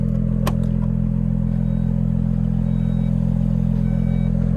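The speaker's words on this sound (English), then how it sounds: "I have it in sport mode now, so you can kind of hear that. That's the sport exhaust sound." A 2018 Porsche Panamera Sport Turismo 4S's sport exhaust in sport mode, a low, rumbling steady idle, a deep continuous drone with a faint clatter on top.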